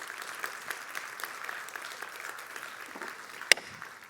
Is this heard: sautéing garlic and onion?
no